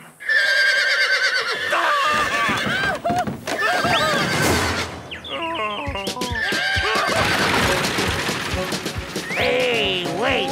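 Cartoon stagecoach horses neigh loudly and shrilly again and again as they bolt out of control, with crashing, hoof clatter and chaotic noise throughout.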